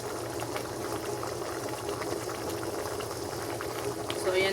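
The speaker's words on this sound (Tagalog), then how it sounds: "So, pakuluin lang natin." Sauce simmering in a pot for sweet and sour tilapia, a steady, close bubbling hiss that runs continuously with faint background sounds and occasional soft clinks.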